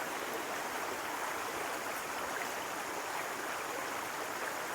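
Steady, unbroken babbling of a shallow Konkan river running low, heard nearby as an even wash of water noise with no one speaking.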